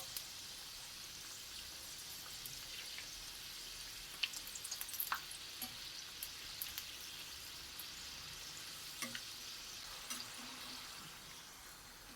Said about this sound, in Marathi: तेल छान गरम झालेलं आहे करंजी डीप फ्राय करून घेऊया